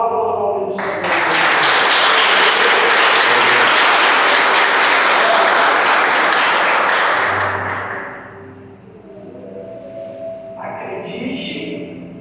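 Church congregation applauding, a dense roar of clapping that swells, holds for several seconds and fades, followed by a voice speaking.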